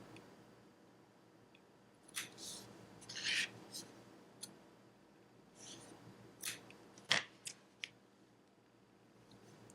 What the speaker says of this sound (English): the next thing we're gonna do is just take these loops and cut them